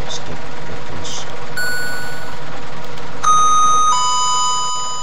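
A bus stop-request button in the Urbanmove Helsinki video game sounds its chime several times over a low idling engine hum, with clear electronic ding tones ringing out.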